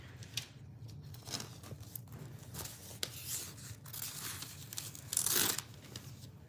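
A cat tearing and crumpling loose paper, close soft rustles, rips and crinkles coming in irregular bursts, with one sharper louder crinkle near the end.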